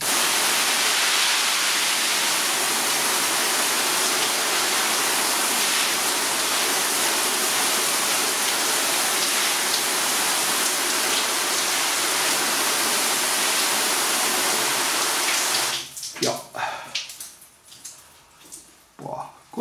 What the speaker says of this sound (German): Hier haben wir so eine kleine Regenfunktion.